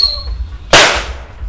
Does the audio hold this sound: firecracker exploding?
yes